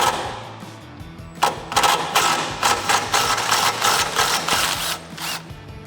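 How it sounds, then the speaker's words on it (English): A 15mm socket ratchet clicks in quick repeated bursts while backing a bolt out of a suspension cup on a Jeep Wrangler TJ, loud and close with no speech. "next we're going to use a 15mm socket to remove the bolt out of the inside of this cup"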